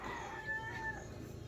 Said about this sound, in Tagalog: Maraming ibon sa puno.